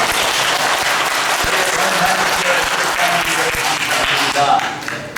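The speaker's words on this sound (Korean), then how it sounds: "박수 한번 합시다" Loud, dense applause from a church congregation during a Sunday service, sustained clapping filling the room before tapering slightly at the end.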